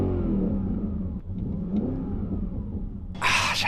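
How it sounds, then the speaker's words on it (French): Audi A6 V8 engine idling with a steady low purr close by, holding an even rumble throughout and ending in a brief burst of hiss. "Et ce ronron là, ce ronron. Écoutez juste ça."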